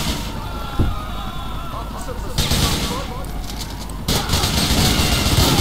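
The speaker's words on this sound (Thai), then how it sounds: "อย่ายิงลูกซอง" Shotgun gunfire in the video game GTA IV, loud blasts and crashes set within a dense, continuous wash of game noise, with a person talking over it.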